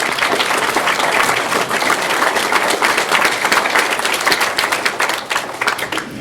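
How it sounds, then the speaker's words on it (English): Enthusiastic applause from a large crowd, dense and sustained clapping that stays loud throughout and tapers slightly near the end. "let's give them all a round of applause"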